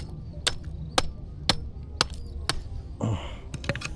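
Sharp hammer blows strike at an even pace, about one every half second, followed by a brief scrape and a few quicker taps.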